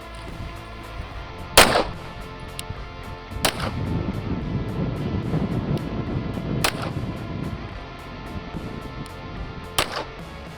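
Sharp, loud shots from a Raider 365 pistol with a 6-inch barrel firing Super Veil 115-grain ammunition: four separate reports spaced a couple of seconds apart, with outdoor rumble between them.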